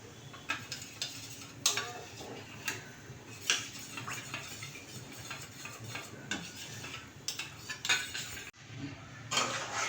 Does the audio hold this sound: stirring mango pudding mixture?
yes